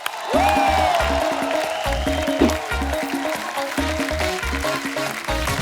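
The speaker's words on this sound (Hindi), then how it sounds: "जोरदार तालियां अनीस भाई के लिए" Studio audience applauding and cheering for a guest on The Kapil Sharma Show, a sustained burst of clapping under loud, rhythmic thumping music that starts abruptly and carries on for several seconds.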